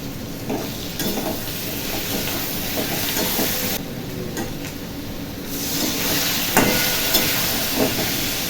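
Ginger and onion paste frying in a pan hisses loudly as water is added, a dense, close sizzle with bubbling and stirring scrapes that continues throughout, briefly easing in the middle before rising again.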